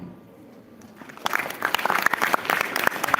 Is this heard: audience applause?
yes